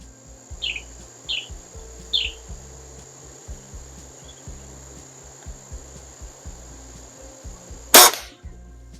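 A single sharp, loud shot from a BSA Airsporter Stutzen Mk1 air rifle cracks out near the end, preceded by quiet outdoor ambience with a few distant bird chirps.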